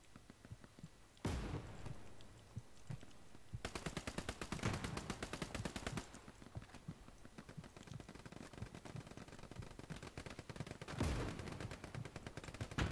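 Tank firing HE shells in Hell Let Loose, with heavy booming blasts at the start and end between long stretches of rapid machine-gun and rifle fire, loud and continuous.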